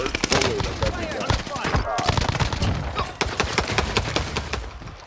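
Rapid gunfire from a competitive shooter video game, dense bursts of overlapping shots cracking close and loud throughout, with quieter background game effects.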